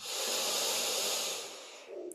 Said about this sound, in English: Out breath, you know you're breathing out.